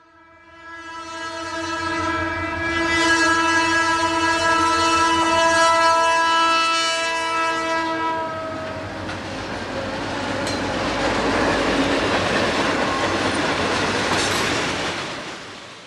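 A Bessemer and Lake Erie Railroad train in western Pennsylvania sounds a long, loud, multi-note horn for several seconds, then rumbles past with rolling wheel and car noise that swells and fades, with no voices.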